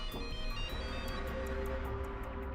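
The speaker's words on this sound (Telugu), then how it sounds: "మీ ఫోన్ మౌతోని చూడండి." A mobile phone ringtone plays indoors, a steady repeating electronic melody that sounds moderately near and carries on alone without talk.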